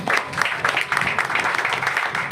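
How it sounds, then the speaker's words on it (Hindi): Clapping from a congregation at a Sunday church meeting, a steady patter of many hands sustained for a couple of seconds at moderate loudness. "जोरदार तालियां बजाएं"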